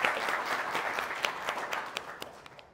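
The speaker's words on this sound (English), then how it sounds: "let's just have a huge round of applause welcoming Vishesh to the campus" A campus audience at Masters Union gives a guest a welcoming round of applause, dense steady clapping from many hands with a few sharper close claps standing out, fading toward the end.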